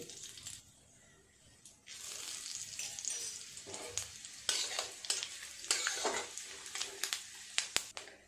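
Dried red chili, bay leaf and cumin seeds sizzle in hot oil while a utensil stirs and scrapes the pan in uneven bursts, growing busier toward the end.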